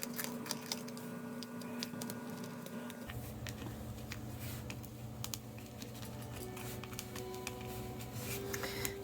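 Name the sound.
Bic Velocity pen drawing circles on an index card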